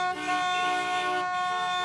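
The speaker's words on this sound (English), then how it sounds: "when people keep honking their vehicles" A car horn blares continuously in traffic, loud and close, a sustained harsh tone filling the whole moment.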